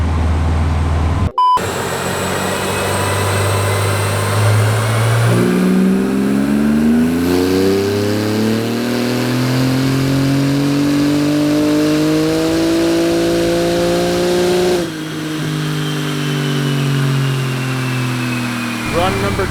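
A roughly 800-horsepower rear-wheel-drive Porsche engine on a dyno, loud and close, climbing in one long rising rev through the gears before easing off, with a voice heard over it.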